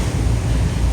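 Ocean waves surge at the pier on Cuyo island, heavy and steady, with a broad continuous wash and wind noise against the microphone throughout.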